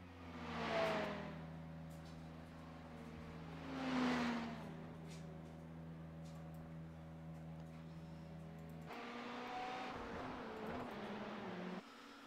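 Race car engines in the iRacing sim hold a steady multi-harmonic drone, with two louder swells as cars pass close at about one and four seconds, then a rougher, busier engine texture late in the clip; no talk.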